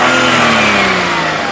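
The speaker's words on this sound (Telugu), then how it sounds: "ఒకసారి యాక్సిలరేటరీ" A 2014 Maruti Suzuki Wagon R petrol engine, recorded close and loud, revs up and then winds back down with a smooth, steadily falling drone.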